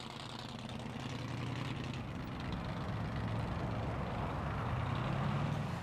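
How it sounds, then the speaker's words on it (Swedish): Exhaust of a 1960s Ford Mustang, a steady, low rumbling idle heard at a moderate distance with a faint swell in level toward the end. "Lyssna på avgasljudet."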